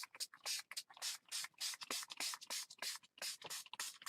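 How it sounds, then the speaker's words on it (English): Repeated short hissing bursts of Tattered Angels spray mist pumped over paper for a junk journal, a rapid uneven series of about a dozen close, crisp sprays. "All right, so I'm just gonna spray this"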